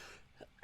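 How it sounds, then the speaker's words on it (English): A single sudden sneeze bursts out loud and close at the very end, after a stretch of near silence with a faint breath just before it. "Sorry, I'm about to sneeze."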